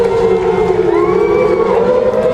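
Crowd at a junior college football game between Lackawanna College and Monroe College, a broad roaring cheer that holds steady across the stands, with a siren wailing faintly above the noise.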